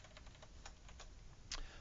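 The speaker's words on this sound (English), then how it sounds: "by clicking in this cell, it'll open up the cell for us, and we can just type in" Quiet typing on a computer keyboard while entering figures into a spreadsheet cell, a steady run of soft key clicks with one slightly louder tap near the end, faint and without talk.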